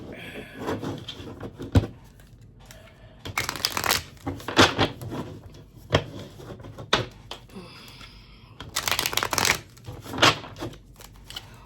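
Tarot cards being shuffled at close range, with repeated bursts of riffling and flicking separated by brief pauses and softer handling noises.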